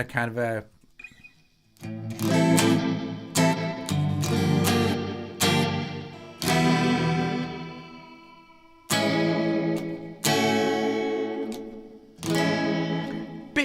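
A LEKATO PA1 pocket guitar amp plays guitar through a chorus modulation effect, giving shimmering, wavering sustained chords and notes in separate bursts with short gaps between strums, loud and close.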